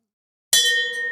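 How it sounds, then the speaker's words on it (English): A small metal bell is struck once on a podcast set, a sharp bright clang that rings on with sustained tones after silence. "Ring the fucking bell."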